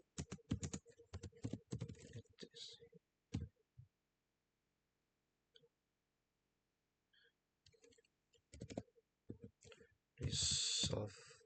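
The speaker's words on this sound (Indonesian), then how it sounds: "Ketika kita ketikkan di sini perintahnya nano" Quick bursts of typing on a computer keyboard as a nano command is entered, clusters of sharp clicks with long quiet gaps between them.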